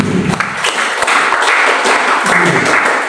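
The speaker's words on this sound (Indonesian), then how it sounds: "Berikan tepuk tangan." A crowd at a church worship service in Jakarta applauding steadily, dense overlapping claps at a fairly loud, even level throughout, with no voices on top.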